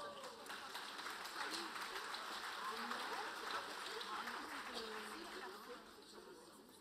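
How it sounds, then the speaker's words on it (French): Audience at a mayor's New Year ceremony in Calais applauding as a performing group comes on, steady crowd clapping at moderate distance with voices and some music mixed underneath. "sous vos applaudissements"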